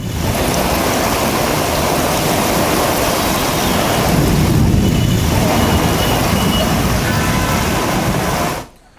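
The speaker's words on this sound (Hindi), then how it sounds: "अंडरपास देखिए पानी से पूरी तरह से लबालब है और गाड़ी फंस गई है।" Floodwater rushing through a fully flooded underpass in Panchkula where a vehicle is stuck, a loud continuous roaring wash that swells midway and cuts off abruptly at the end.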